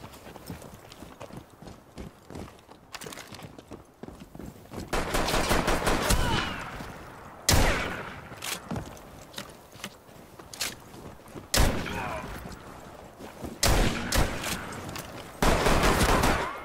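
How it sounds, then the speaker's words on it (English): Gunfire erupts in a game, bursts of loud sharp shots and rapid volleys separated by quieter stretches, with hoof-like clattering and rustle between them. "Gunshots rang out."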